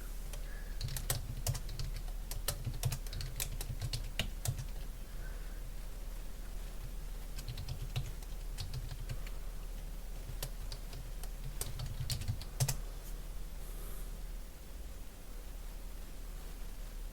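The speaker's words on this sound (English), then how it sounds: "hit start, type in cmd, and run as administrator" Fingers tap quickly on a computer keyboard in short bursts of close, crisp key clicks, with brief pauses between them over a faint steady hum, and nobody talks.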